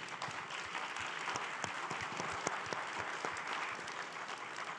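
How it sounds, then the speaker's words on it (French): Steady, dense applause from a conference audience at the end of a keynote on quantum computing and payments, heard at a distance and fairly quiet, with individual claps standing out. "je pense on peut les applaudir"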